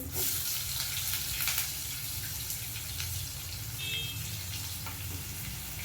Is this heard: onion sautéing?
yes